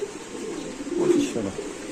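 A domestic pigeon coos once in a low, throaty burst amid a steady background hum at a pigeon market where giribaz and racer birds are sold, close and fairly loud.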